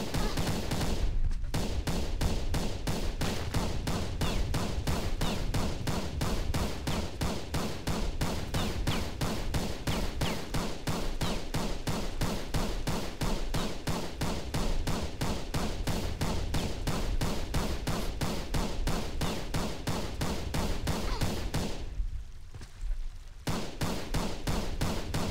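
Rapid, evenly spaced pistol shots ring out in the video game Tomb Raider: Biohazard, a loud continuous volley with two brief pauses.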